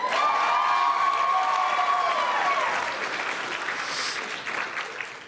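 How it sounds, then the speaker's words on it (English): A youth audience at a county youth summit bursts into loud, sustained applause with cheering and shouts, the clapping dense and close before easing slightly toward the end. "A round of applause, let me hear some yelling, let's get some energy."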